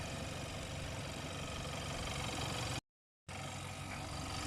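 Turbocharged engine of a 2014 Hyundai Santa Fe idles at a steady, quiet hum, broken by a brief moment of silence partway through.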